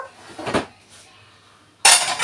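Dishes and cutlery clink while an old, second-hand dishwasher is loaded. A brief clatter comes first, then a louder, fuller burst of rattling crockery near the end, close by with no talk.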